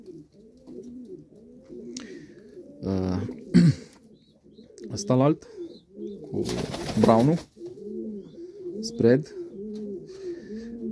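Pigeons in a breeding loft coo in continuous, rhythmic low rolls close by, with someone speaking intermittently over the cooing.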